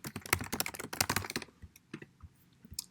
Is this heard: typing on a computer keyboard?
yes